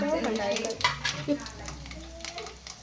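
Dry curry leaves crackle and sizzle in hot oil for North Karnataka garlic chumuri chutney, with a spoon stirring and scraping the pan, a steady close frying hiss broken by a few metallic clinks.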